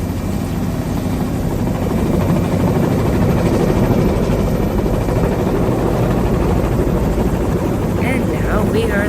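A helicopter flies over New York City on a sightseeing tour, its rotor and engine noise a loud, continuous broadband roar with a faint voice surfacing near the end.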